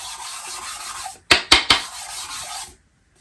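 A ring scratched three times in quick succession across a smooth finish surface as a test, sharp scraping strokes standing out over steady background hiss.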